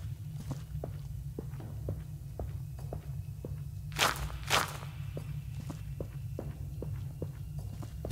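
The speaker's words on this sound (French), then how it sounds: "Ces bruits de pas que j'entends, je comprends pas." Steady, regular footsteps in the horror video game Labyrinthine, soft thuds falling at an even walking pace over a low background hum, with two brief louder bursts partway through and no talking.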